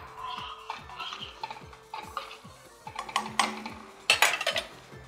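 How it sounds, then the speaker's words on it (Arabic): A spoon scrapes and clinks against a metal pot while taro is stirred in boiling water, with steady repeated ticking strokes and a few louder knocks near the end, close up and with no talk. "على طول هقلب بقى"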